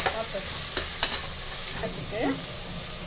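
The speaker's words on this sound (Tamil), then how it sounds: "நல்லா வதக்கிக்கலாம்." Tomatoes sautéing in a frying pan, a steady loud sizzle with occasional scraping stirs of a spoon, close and without talk.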